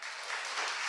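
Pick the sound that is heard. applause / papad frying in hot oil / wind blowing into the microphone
applause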